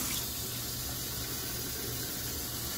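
A kitchen sink tap runs cold water in a steady, unbroken gush, loud and close, with no other sounds over it.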